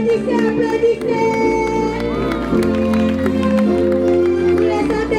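A large audience at a Christmas cultural day celebration claps and cheers loudly over a constant bed of music, with shouting voices mixed into the dense, sustained crowd noise.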